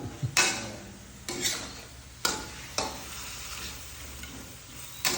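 Thai basil chicken sizzles steadily in a pan while a utensil scrapes and stirs in periodic strokes as the liquid cooks down, no voices over it.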